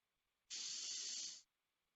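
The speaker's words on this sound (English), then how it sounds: "if you hear a little of the spray" An airbrush sprays paint in a single burst of about one second, a bright steady hiss that starts and stops abruptly against near silence.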